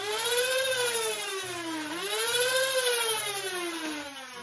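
Flywheels of a Dart Zone Maxim Pro foam dart blaster rev up with a loud whirring whine whose pitch rises, dips around the second mark, climbs again and then slowly falls, heard alone and close.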